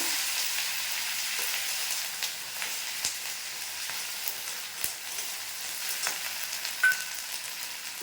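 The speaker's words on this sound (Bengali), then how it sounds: "রসুনটা তেলে ভেজে নেবো।" Steady crackling sizzle of garlic paste frying in hot oil, with occasional scraping stirs and small pops throughout.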